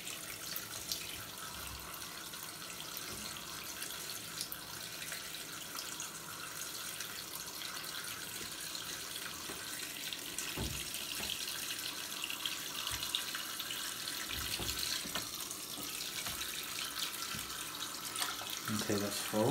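Water runs steadily into the tub of a Costway mini twin-tub washing machine, a continuous close splashing rush with occasional clunks and handling noises.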